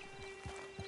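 Horse hooves clip-clopping in the video game Red Dead Redemption 2, a few soft, quiet hoof steps over a steady faint background tone.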